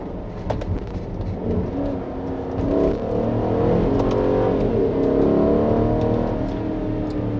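A 2016 Mercedes-Benz GL63 AMG with a 7-speed automatic accelerates along a curvy road, its engine droning steadily and building in loudness, heard from inside the cabin.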